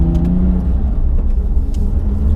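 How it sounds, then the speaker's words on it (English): Porsche 997.2 GT3 RS engine running, a deep steady rumble of the flat-six heard from inside the car, loud and close with no talk. "Let's try and get it up the revs somewhere then."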